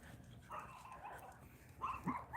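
A pet dog in a suburban home gives a few soft, short yips and whimpering barks, fairly faint and close, in otherwise quiet indoor surroundings.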